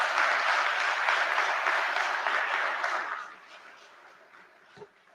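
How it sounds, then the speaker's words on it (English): Applause from an audience at an outdoor PNM post-budget public political meeting, a broad steady wash of clapping that holds for about three seconds, then thins and fades to a quiet murmur with a brief thump near the end. "I think he deserves a round of applause for that ministry."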